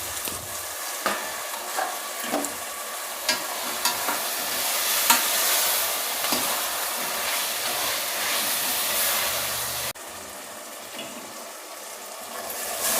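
Carrot, beans and potato with ginger-garlic paste stir-frying in a pan for samai (little millet) kitchadi, a steady loud sizzle with repeated scraping and stirring clinks throughout, no voices.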